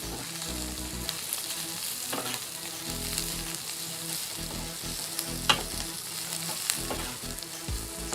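Yellow noodles stir-fried with cabbage and other vegetables in a pan give a loud, continuous sizzle, broken by repeated scraping stir strokes and occasional sharp clanks of the utensil against the pan.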